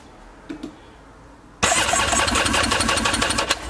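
A 1995 Yamaha Wave Runner jet ski engine cranks for a compression test with the throttle wide open: a quiet start with a couple of faint clicks, then a sudden loud, rhythmic cranking whir that runs steadily to the end.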